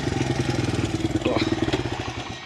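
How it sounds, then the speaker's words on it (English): A dirt bike engine idles nearby with a fast, steady, loud putter that holds for the whole stretch, pulsing slightly in volume. "I gotta kill the motorcycle."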